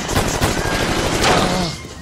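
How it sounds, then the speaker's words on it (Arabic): Rapid gunfire erupts in a street in an Egyptian comedy film, a dense, continuous burst of overlapping shots lasting about two seconds at moderate loudness. "انا مصر اني سمعت صوت رصاص"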